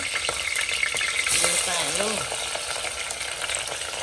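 Green chillies fry in oil inside a pressure cooker for a mutton curry, a bright, close crackling sizzle, with a brief faint rising tone partway through and no talking.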